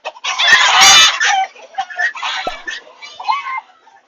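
Agitated chickens and a small Old English game rooster cluck and squawk loudly indoors, with a sharp burst of overlapping calls at first that settles into scattered, fainter clucks.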